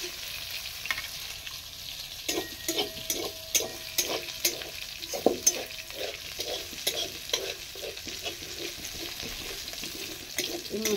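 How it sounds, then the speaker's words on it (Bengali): Pomfret fish fries in a pan with spice paste, giving a steady sizzle with a run of scraping and tapping stirring strokes at close range. No one speaks. "আমি মশলাটাও মাছের সঙ্গে দিয়ে দেবো।"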